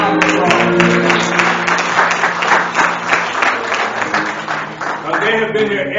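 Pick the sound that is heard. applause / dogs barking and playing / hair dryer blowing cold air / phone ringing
applause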